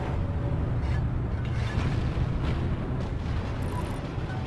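A tank being destroyed by cannon fire in the Heroes & Generals video game: a loud, sustained rumbling roar with heavy booming bursts layered over it, continuing throughout with no voices.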